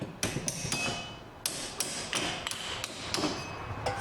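Hammer blows ring on a stuck rear brake disc in a home garage, a dozen or so sharp metallic strikes in irregular bursts, loud and close with no talk.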